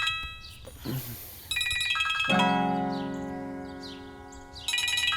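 A mobile phone ringtone rings out steadily for several seconds after a short burst of other film sound effects, clear and moderately loud in a dramatic movie scene.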